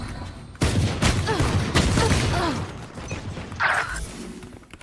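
Rapid gunfire from the video game Valorant in a team deathmatch, bursts of shots crackling loudly through most of the clip with a brief metallic chime near the end.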